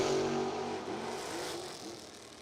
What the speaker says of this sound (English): Throttles get ripped.